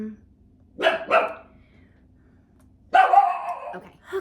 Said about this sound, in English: she's a Chihuahua, and she also just likes to bark